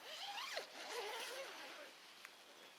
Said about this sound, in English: when you unzip the door itself